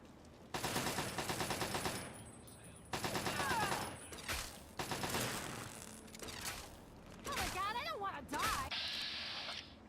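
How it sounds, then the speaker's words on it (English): Gatling laser fire in Fallout 3 comes in several rapid bursts of buzzing, stuttering shots separated by brief gaps, loud and up close. "Maybe I should repair these Gatling lasers"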